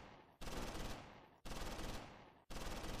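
Gunfire in the WWII tactical game Close Combat: dense, continuous bursts of automatic fire in three long stretches split by brief gaps, loud and without speech.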